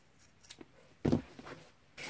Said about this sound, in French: je prends les ciseaux et il ne me reste plus qu'à couper le même arrondi des deux côtés